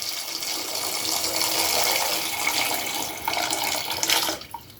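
Tap water gushes steadily into a pot being filled for boiling potatoes, a close, continuous rushing hiss that cuts off near the end.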